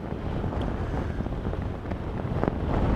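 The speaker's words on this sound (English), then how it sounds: "I gotta brace myself because the wind's trying to blow me over" Strong wind buffeting a lavalier microphone with a fluffy windscreen on an open plain, a loud steady rumbling roar that swells toward the end.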